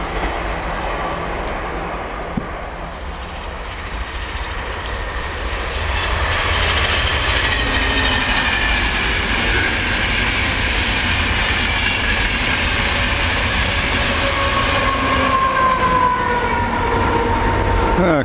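A Class 158 diesel train passes Werrington Junction, a steady loud rumble that swells after a few seconds and holds continuously, with faint tonal engine whine riding over broadband rail noise throughout.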